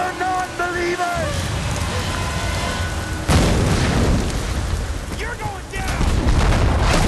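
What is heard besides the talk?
explosions in the video game Tomb Raider: Definitive Edition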